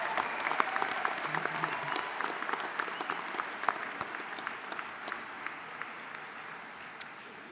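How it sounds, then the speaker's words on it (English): Steady applause from a university graduation audience in an auditorium, dense and sustained at moderate distance throughout, with a brief faint tone early on. "Please join with me in a round of applause for Miss Beverly O'Connor"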